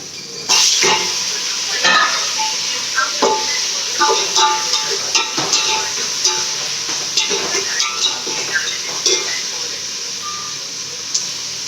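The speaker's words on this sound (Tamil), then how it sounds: "வதங்கட்டும் வெங்காயம் நம்ம தக்காளி போட்டுக்கலாம்" Onions and tomatoes sizzle loudly in a pan for chicken biryani, with a constant bright frying hiss and repeated scraping stirs close by, while someone talks over it.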